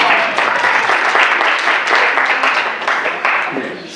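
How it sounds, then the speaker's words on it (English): Enthusiastic audience applause at a convention talk, a loud close burst of many hands clapping that holds steady for a few seconds before tapering off. "Everybody give her a round of applause for Michelle."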